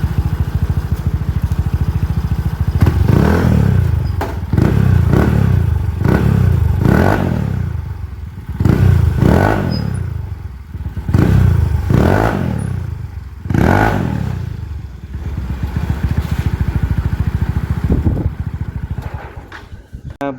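A Mio i 125 scooter engine fitted with a Pitsbike ECU is revved repeatedly, each blip rising and falling in quick succession over a steady, loud, close idle rattle.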